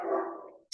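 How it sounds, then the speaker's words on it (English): A single short dog bark, close and fairly loud, fading quickly with a faint click at the very end. "Sorry for my dog barking"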